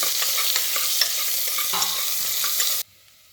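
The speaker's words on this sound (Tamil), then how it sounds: "பெரிய வெங்காயம் நல்லா வதக்கணும்." Onions and green chillies sauté in hot oil for vangibath, a loud continuous sizzle with stirring scrapes that suddenly cuts off near the end.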